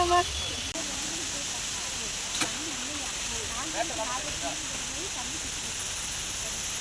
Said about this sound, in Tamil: அப்படியே அருவி கொட்டுது பாரு